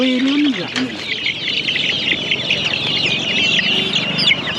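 Chickens, including IRI and black breeds, cluck and crow nearby at a poultry market in Magadi near Bangalore in a busy, overlapping stream of calls, with a brief low voice at the start.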